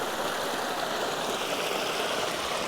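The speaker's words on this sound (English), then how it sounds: "Hot Spring Waterfall." Hot spring waterfall on the Carson River, a continuous close rush of falling, splashing water with steady, even loudness and no voices.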